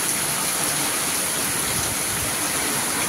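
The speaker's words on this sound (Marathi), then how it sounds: "तर बघा चाललाय जोरदार पाऊस" Heavy rain pours steadily with wind, a dense, even hiss of falling water and runoff that stays loud and unbroken throughout.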